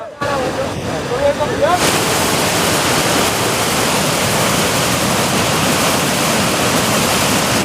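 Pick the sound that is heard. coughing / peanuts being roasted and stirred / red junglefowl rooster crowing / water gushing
water gushing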